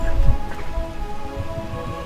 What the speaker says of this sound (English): So that's why it's always raining even outside and inside this kingdom as well.